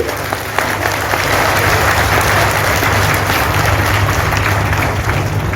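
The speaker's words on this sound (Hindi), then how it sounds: "आप लोग जोरदार तालियों से उनका स्वागत कीजिए।" A large audience at an old-age home inauguration breaks into loud, sustained applause to welcome the chief guest, a thick, continuous wash of clapping filling the space without pause.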